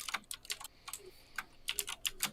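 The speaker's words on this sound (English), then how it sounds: "So sorry for the typing noises, but Sin does have um, the loudest keyboard in the East." Fast, irregular typing on a very loud computer keyboard: sharp, close clicks of separate keystrokes in quick bursts with short pauses, alone and fairly quiet.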